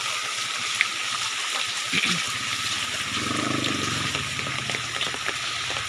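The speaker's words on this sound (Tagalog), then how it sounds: "Ayan dito sa unahan do ko kusog kayong tubig" Strong floodwater rushing near a bridge in Barangay San Pedro, Duero, Bohol, Philippines, as a steady broadband roar throughout, with faint voices mixing in under the flow.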